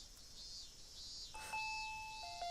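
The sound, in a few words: doorbell ringing, ding dong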